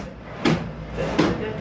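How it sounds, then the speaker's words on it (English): A cruise ship cabin door on the Disney Wish opening, two short knocking thuds about a second apart, faint against quiet room tone. "Oh, the last time I'm opening this door."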